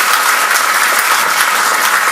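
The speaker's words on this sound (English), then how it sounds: "please give a good applause" A conference audience at a youth delegates' welcome bursts into loud, sustained applause, a dense and even wash of many hands clapping without a pause or any voice on top.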